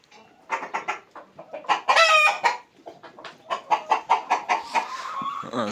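Andijan black hens on a small family farm cluck and cackle close by in rapid, uneven bursts, with one louder squawking call in the middle, steady and unaccompanied by speech.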